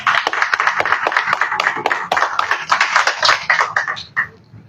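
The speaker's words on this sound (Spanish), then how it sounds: "Dale fuerte palmas a Cristo, amén." A church congregation claps hands loudly and vigorously in a rapid, uneven burst of many claps that tapers off toward the end, with faint voices mixed underneath.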